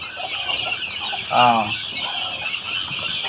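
Steady high-pitched peeping from many month-old guinea fowl chicks fills the background, close by, with one brief louder call rising above the chorus midway.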